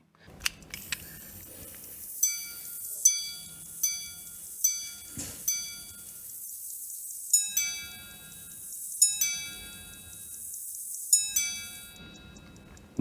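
A luxury pocket watch striking its chime, a series of clear, bright metallic tings in small groups spread over several seconds, each ringing out and decaying, heard close up in quiet surroundings.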